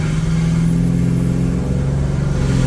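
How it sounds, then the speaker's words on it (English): A supercharged car with a TorqStorm TS84 supercharger making 15 psi on a stock-block engine accelerates hard in third gear, its engine droning loudly and steadily up close with a whine riding on top. "The blow off valve is so loud now."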